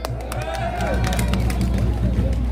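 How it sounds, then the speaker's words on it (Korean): Applause and crowd noise fill a political rally, a dense wash of clapping and babble that stays loud and steady throughout. "다시 한번 큰 박수 부탁드립니다."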